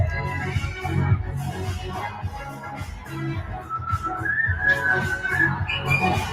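High, thin whistle-register vocal tones from a singer rise and sustain over a loud band and crowd noise at a live Eurovision 2021 semifinal, piercing above the music near the end.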